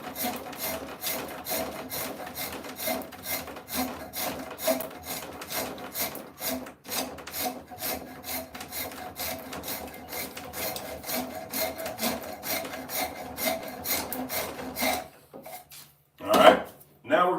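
A rasp filing a white oak axe handle makes rapid rhythmic scraping strokes, close and steady, before a brief pause and a final few scrapes, with someone speaking at times.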